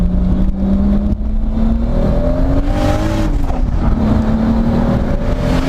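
A 500+ hp Toyota Supra with a 2JZ engine pulls hard, its engine drone holding a steady note that climbs and wavers under load, loud and continuous from inside the car with no talk.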